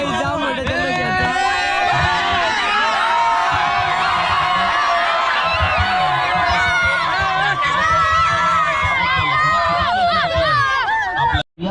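A crowd celebrates a cricket match win with sustained loud cheering, whoops and overlapping shouts close by, a continuous noisy hubbub of voices that cuts off abruptly at the end.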